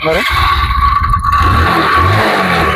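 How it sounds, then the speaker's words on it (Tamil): A Bajaj Discover 100 motorcycle engine runs close and loud with a steady rough drone and a sustained whine, holding even throughout. "இன்ஜின் சவுண்டுன்னு எடுத்துக்கிட்டேன்னு வச்சுக்கோங்களேன், அவ்வளோ அருமையாக இருக்குது"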